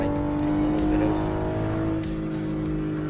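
Engine of a BMW G20 driven in Assetto Corsa on the Shutoko Revival Project No Hesi server, a steady loud drone with tonal harmonics and slight tire noise, continuous throughout.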